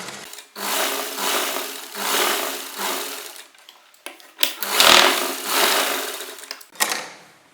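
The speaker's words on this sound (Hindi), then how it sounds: "हम इसके एकदम किनारे सिलाई लगाएंगे।" A sewing machine runs in steady, loud bursts, stitching right along the edge of a 1.5-inch-wide buckram strip for an Afghani salwar, with brief pauses between runs and no talking.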